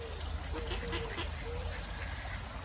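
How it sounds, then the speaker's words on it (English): Ducks at a duck park scuffle and quack in a steady, noisy jumble, with faint calls rising over constant low rumble and background noise. "these ducks, man, they're literally fighting"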